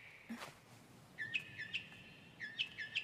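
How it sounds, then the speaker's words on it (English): Small birds chirp in short, bright repeated calls, a few quick pairs and bursts spaced across the moment, fairly close and clear over a quiet background with one brief softer noise near the start. "Oh, I love those sounds of the birds."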